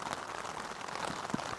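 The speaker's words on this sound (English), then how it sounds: "It's raining steadily." Steady rain pattering on a tent or tarp while camping in Glen Affric, a faint, even hiss of drops with small scattered taps, quiet and continuous throughout.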